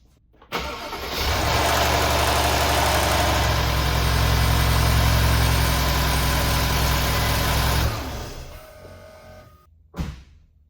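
A Mercedes S550 S-Class engine cranks and fires, then runs at a loud, steady idle with a slight rattle for several seconds before shutting off abruptly, followed by a brief thump.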